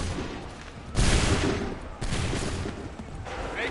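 A massed musket volley fires on command in Assassin's Creed 3, a loud crackling burst at about one second and another near two seconds, each sustaining a rumbling roar of gunfire over distant battle noise.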